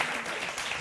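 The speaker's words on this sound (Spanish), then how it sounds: "Hay aplausos tímidos." Brief, quiet patter of audience applause, a steady wash of clapping with no talk, lasting under a second.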